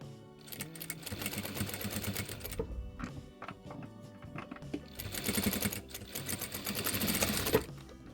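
A sewing machine stitches two baby-overall cuff pieces together, its rapid mechanical clatter running in two long bursts with a short lull between, close and steady with no talking.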